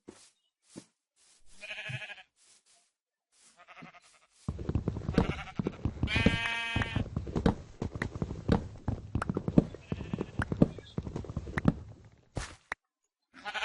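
Blocky Minecraft sheep bleat a few times, then a denser stretch follows with bleats over steady clopping steps and game rustling, moderately loud and close.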